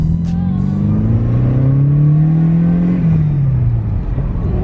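A 1986 Mercedes 190E Cosworth engine revs up steadily while driving, its pitch climbing then dropping back, a continuous droning whine close by.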